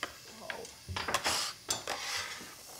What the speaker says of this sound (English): Here, use this pastry scraper and you can put these in the pan.